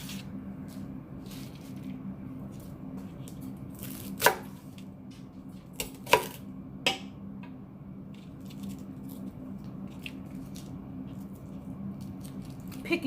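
A knife quarters Brussels sprouts on a cutting board in a kitchen, giving a few scattered, quiet chopping taps over a steady low hum.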